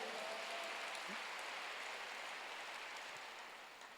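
A church congregation claps during a sermon, a faint, distant, even wash of clapping that fades slightly toward the end.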